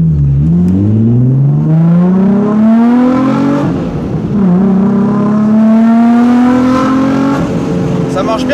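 Car engine revs hard at full throttle in first gear, a loud close whine climbing steadily in pitch, dipping briefly midway, then rising again as it winds out, with voices faintly underneath.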